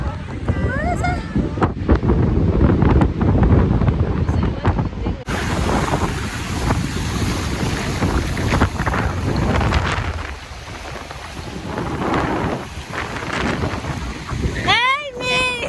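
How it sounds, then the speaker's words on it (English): Strong wind gusting on the Cape Town west coast, roaring steadily into the microphone with surf rumbling underneath, while people talk nearby and a brief whistle-like chirp is heard near the end. "It's windy."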